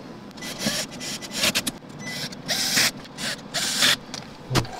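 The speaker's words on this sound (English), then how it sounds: "So the last thing I'm going to do is just screw back" Screws being driven back into the battery cover of an APC UPS: repeated close scraping, grinding bursts in short uneven spurts, with brief pauses between turns and no talking.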